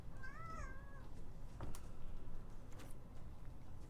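A cat lets out one clear, fairly close meow early on, a short rising-and-falling call over quiet room noise, followed by faint rustling and a soft thump.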